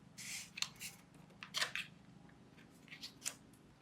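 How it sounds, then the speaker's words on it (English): Scissors snip red paper pieces for an album in a quiet room, a few crisp cuts in short irregular bursts with brief pauses between. "I've cut 4 red pieces"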